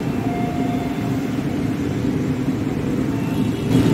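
A commuter train rumbles steadily at Matraman station, a continuous low mechanical drone with a faint tonal whine near the start.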